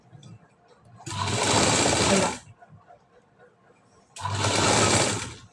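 A sewing machine stitches a high-neck blouse in two loud, steady bursts of rapid running stitches, separated by a quiet pause with faint handling noise.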